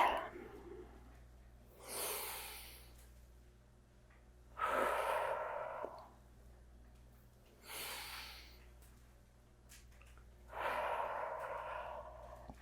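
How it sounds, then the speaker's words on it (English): Deep yoga breathing during a shoulder-mobility class, with four slow, audible breaths alternating between inhales and exhales, each lasting about a second or two with quiet gaps, close and clear. "Inhale and exhale."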